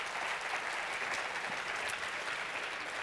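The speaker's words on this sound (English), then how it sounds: "Everyone give him a huge round of applause." Steady, dense audience applause fills a conference hall at a business event, sustained and even throughout without pauses.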